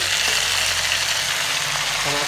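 Green chillies and tomatoes frying in a couple of spoons of hot oil, a loud close continuous sizzle with faint stirring clatter.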